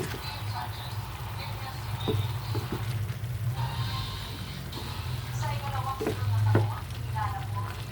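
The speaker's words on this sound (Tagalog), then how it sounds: "Tapos haluin natin ulit." Pakbet vegetables frying in a pan are stirred, giving a steady sizzle with scraping and shuffling strokes throughout, while a voice speaks briefly over the cooking.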